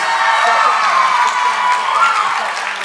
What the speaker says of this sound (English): Give them a nice round of applause, our first runners up, and our two new